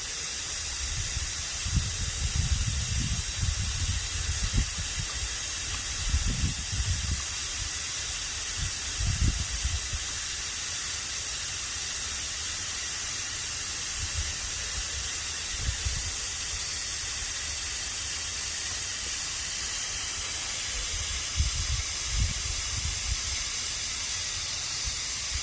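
Propane hissing and spraying steadily from the open bleeder screw on a tank during a home refill, a constant broad hiss with occasional low thumps and rumbles underneath, no talking.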